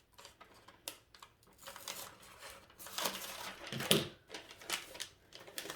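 Scissors or a craft blade cut through material for a Dollar Tree DIY birthday gift box, producing short, close, crisp snips and scraping strokes, with no talking.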